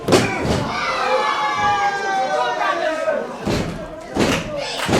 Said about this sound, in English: The scoop slam from Samuel Hughes